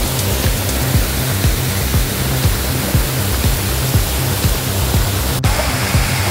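Water pouring steadily over Lambingan Falls in Jabonga, Agusan del Norte, a loud, dense broadband rush with low churning pulses, close and continuous with no voices.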